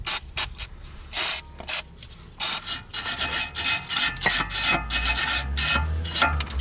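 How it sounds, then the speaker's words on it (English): Brake and clutch cleaner is sprayed onto a rear brake caliper of a 1999 BMW 318i E46, in loud close hissing bursts of varying length, short puffs at first, then longer continuous sprays. "you can also use some brake and clutch cleaner, which I got here, just to get rid of all the dust that is collected from the pads"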